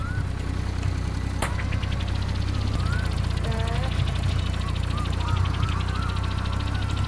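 A tractor engine in the Roblox game Fling Things and People idles with a steady low rumble throughout, carrying a faint knocking texture, while brief game chirps and tones sound over it.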